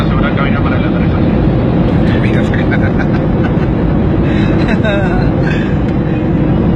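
Steady, loud roar inside an airplane cabin during the landing approach, a dense broadband rumble that never lets up, with faint voices murmuring beneath it.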